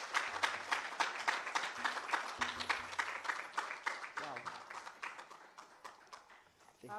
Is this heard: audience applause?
yes